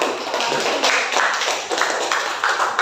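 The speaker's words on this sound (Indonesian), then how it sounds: "tepuk tangan untuk Bapak Yasa." Applause for a presenter after a group presentation in a school classroom: a short burst of moderately loud, steady clapping from a small audience, fairly close, with no talking over it.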